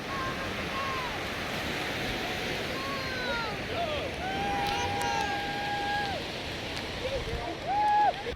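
Surf at Hermosa Beach during a triathlon swim rolls in as a continuous loud wash, with wind buffeting the microphone and faint voices and shouts from the shore mixed in.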